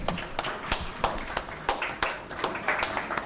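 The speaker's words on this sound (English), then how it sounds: "I would request everyone to please give a round of applause to Dr. Rao" Scattered, fairly faint clapping from an audience in a hall at an ophthalmology conference, with distinct individual claps that never fully merge into a dense ovation.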